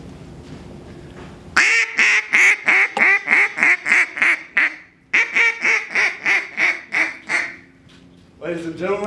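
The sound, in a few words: duck call being blown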